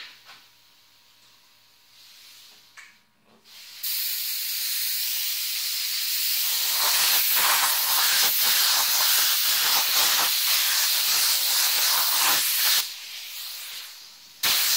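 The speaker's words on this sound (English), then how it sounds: "Let's put our first coat of clear on this thing." Spray gun laying a first coat of clear paint over a plaque, a loud steady hiss that starts after a few quiet seconds with faint handling noise, runs for about nine seconds, stops, then briefly resumes.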